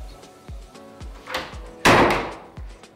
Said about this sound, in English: I love touching my emergency exit door release buttons.